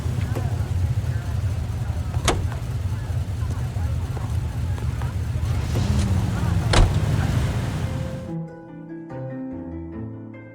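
Steady low engine rumble of a car driving in L.A. Noire, with a couple of sharp ticks, before it cuts to quieter music and voices near the end.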